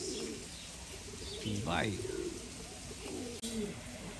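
A racing pigeon, an old breeder bird in a loft, coos softly among faint bird chirps, with someone talking over it.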